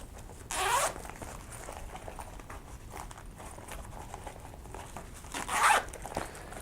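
A zipper on a Lifeventure ticket wallet pocket runs twice, two short bright rasping pulls several seconds apart, close up against a quiet background.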